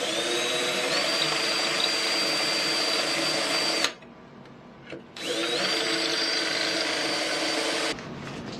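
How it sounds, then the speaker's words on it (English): A power drill whines loudly through holes in a vintage nightstand in two sustained bursts, separated by a short pause of quieter clatter, then drops off at the end. "Then I'm just going to take my drill and drill through these holes here."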